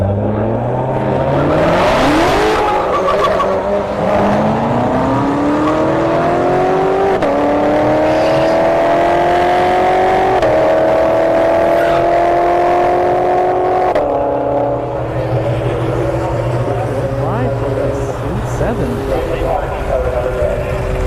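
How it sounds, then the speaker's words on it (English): A C7 Corvette and a Hyundai Veloster launch in a street drag race at Bradenton Motorsports Park, engines rising through rising gear-shift sweeps, loud and continuous, with a commentator talking over the roar. "we've got a C7 going up against a... Is that a Veloster? I think it's a Veloster on the right there."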